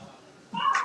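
A cat gives a single short meow up close after a brief quiet stretch, loud and clear against a faint background.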